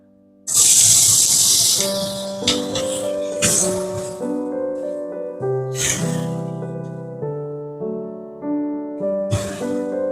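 Chopped onion dropped into hot butter with whole cumin and dried red chilli, a sudden loud hiss of sizzling that settles into steady frying under a backing music track.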